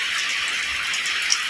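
Steady rain hisses continuously, a dense, even wash of rain pouring down onto garden plants, with no voices, holding at a moderate level throughout.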